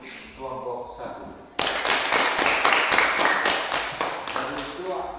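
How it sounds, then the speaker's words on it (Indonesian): A classroom group claps for one of the student teams, starting suddenly after brief talk and continuing as loud, close, fairly regular claps for several seconds. "Mari kita berikan tepuk tangan untuk kelompok 1."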